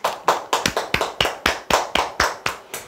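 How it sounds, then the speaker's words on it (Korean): Steady, rhythmic hand clapping, about a dozen sharp claps in quick succession, close and fairly loud with no voices. "박수 한번 치시죠."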